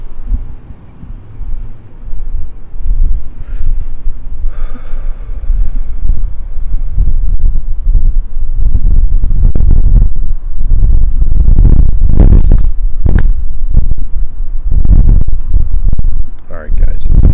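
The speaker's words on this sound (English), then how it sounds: "Alright guys, it's a bit windy." Gusty wind buffets the microphone outdoors, a loud, continuous low rumble with swelling bursts throughout, and a voice speaks at points over the roar.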